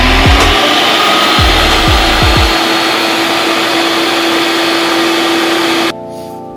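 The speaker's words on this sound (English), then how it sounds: "just press the corresponding buttons on the Ninja Creamy Swirl machine and let's get to it" A Ninja Creami Swirl machine runs loudly and steadily while making soft serve, with a series of low thumps and knocks early on, before the motor abruptly cuts off near the end, leaving a faint lingering hum.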